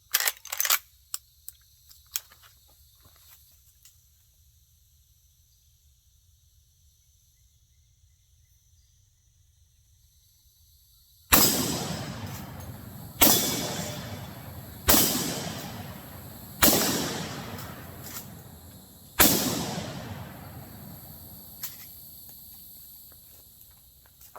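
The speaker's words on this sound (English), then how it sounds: "Let's do some shooting before the bugs get us." Five loud, sharp lever-action rifle shots ring out outdoors, evenly spaced a couple of seconds apart, each with a decaying echo as jugs are hit, after a long quiet stretch with faint insects and a few small clicks.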